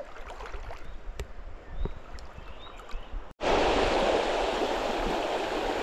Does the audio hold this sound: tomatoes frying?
no